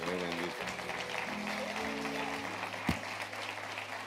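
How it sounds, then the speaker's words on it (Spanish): Applause from a church congregation during a pastors' study gathering, steady clapping throughout under sustained music tones and a brief louder hit near the end. "una un aplauso"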